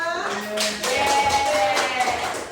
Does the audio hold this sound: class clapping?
yes